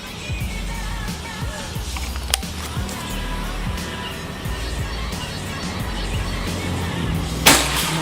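A single sharp crack from an upgraded PCP Predator slug-barrel air rifle firing a slug outdoors, heard near the end above a steady low background hum, with a fainter snap earlier.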